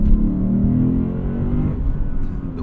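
A 2024 Lexus IS500 V8 accelerating in normal mode, a deep engine roar with rising harmonics heard from inside the car, steady and fairly loud throughout.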